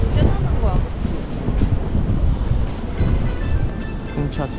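Strong wind buffets the microphone on a coastal road in Jeju lined with wind turbines, a steady roaring rush with gusty surges and occasional people talking under it.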